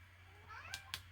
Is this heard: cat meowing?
yes